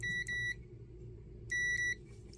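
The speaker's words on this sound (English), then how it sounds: "So we got our multimeter set to tone." A multimeter set to continuity gives two short, sharp electronic tones while probing a vintage Nintendo NES console, each beep about half a second long and separated by a brief quiet pause.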